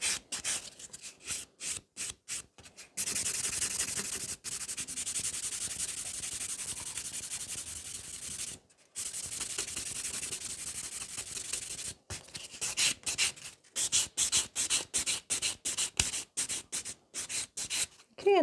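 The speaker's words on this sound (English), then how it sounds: "I swap to the buffer to get a really nice look. And the buffer creates scratches, so the gel is going to stick to it with no problems." A nail buffer works over sculpted fiber gel stiletto nails in close, dry scratchy rubbing strokes, first short rhythmic passes, then long continuous buffing, then quick repeated strokes again, with no talking.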